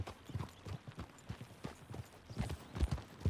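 Horse hooves clip-clop at a steady riding gait in the Red Dead Redemption 2 western video game, a close, rhythmic series of soft thuds that grows slightly louder toward the end.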